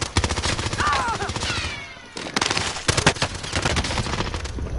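Rapid, rhythmic machine gun fire in a PS4 shooter, loud and close, rattling in sustained bursts with a brief lull midway, mixed with faint voices.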